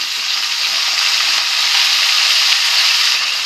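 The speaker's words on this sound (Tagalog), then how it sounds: "Gisa na ako ng sibuyas, bawang, at saka luya." Onion, garlic and ginger sauté in a pan, giving a steady, loud, close sizzling hiss that stays unbroken for a few seconds, with no talking.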